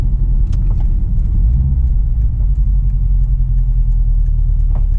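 Engine of a 2008 Subaru Impreza WRX rumbles loud and close as the car drives on a dirt surface. A steady low drone holds throughout, with faint higher clicks and no talking.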